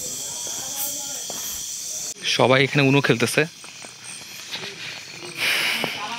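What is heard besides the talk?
crickets chirping at night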